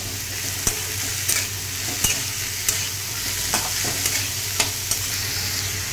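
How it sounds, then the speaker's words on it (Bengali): Semolina fries in a pan under a constant dry sizzle, with sharp scrapes of a spoon stirring at irregular intervals, close and fairly loud, with no talking. "এবার এটাকে আমি জাস্ট ফ্রাই করে নেব ভালো করে"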